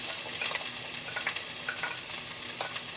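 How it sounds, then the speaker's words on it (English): Onions sizzling in a hot skillet, a steady close crackle with scattered pops and spits, no talking over it. "Actually, I'm going to put these onions in here first."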